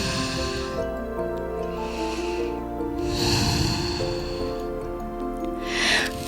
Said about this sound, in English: Nice big exhales.